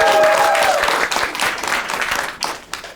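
At a live comedy roast battle, a voice trails off at the start as the audience's loud applause swells, then thins and fades in uneven bursts toward the end.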